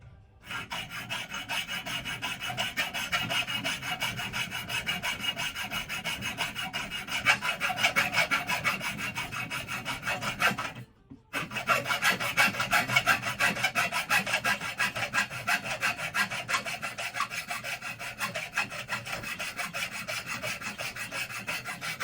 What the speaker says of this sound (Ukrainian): Беремо нашу пилку.